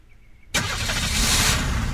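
A tractor engine in the game Unturned cranks and catches abruptly after a moment of near silence, then settles into a steady, loud, close rumbling drone that holds to the end.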